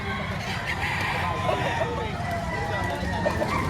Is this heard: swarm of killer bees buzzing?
no